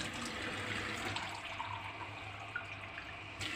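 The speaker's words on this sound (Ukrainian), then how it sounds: "набираємо у цю чашку води." Cold water runs steadily from a tap into a large cup in a home kitchen, a continuous even hiss and splash that carries through the whole stretch.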